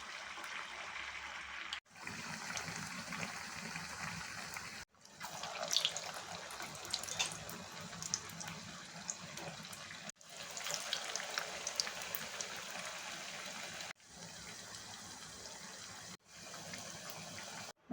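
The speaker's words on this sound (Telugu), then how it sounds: "ఆయిల్లో వేస్తున్నానండి." Maize corn fritters (garelu) fry in hot oil with a steady soft hiss and crackle, broken by several short silent gaps, and no voices.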